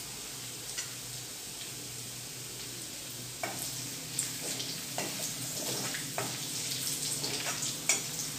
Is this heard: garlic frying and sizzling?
yes